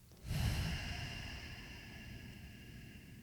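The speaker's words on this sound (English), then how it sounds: "Close your eyes and go ahead and take a deep inhale. And deep exhale." A deep exhale during a calming breathing exercise, one long soft breathy rush of air that starts abruptly and trails off slowly, close and alone with no talk.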